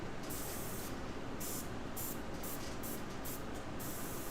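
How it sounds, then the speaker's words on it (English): A beginner's airbrush sprays paint in a soft, continuous hiss, broken into several short bursts as the trigger is pulled and released, close and alone. "what you can do is basically like spray paint"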